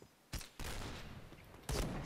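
Gunfire in the Point Blank shooter game, with several loud bursts of shots spaced across about two seconds and a dense, continuous volley toward the end, close and without talk.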